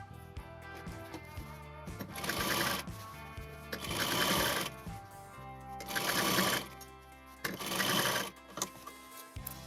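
A sewing machine stitches the front of a dress bodice in four distinct bursts of fast, whirring needle chatter, close and clear, with quiet pauses and small handling noises between runs.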